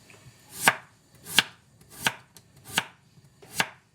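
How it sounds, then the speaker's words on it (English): Knife slicing potatoes thinly on a cutting board, five crisp evenly spaced chops about two-thirds of a second apart, close and clear with quiet pauses between. "And then we're just going to cut some slices, pretty thin slices."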